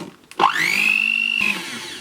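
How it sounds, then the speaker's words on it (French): A food processor starts up to mix flour, semolina and salt for zlabia dough. It opens with a short clunk, then the motor whines up quickly and holds a steady, loud, rising-then-level hum. "on va mixer le tout pendant environ 3 minutes"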